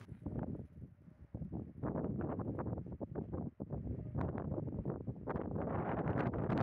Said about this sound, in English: like you can see, it's very windy today too